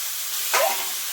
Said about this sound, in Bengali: আমি জলটা দিয়ে দিচ্ছি পরিমাণ মতন।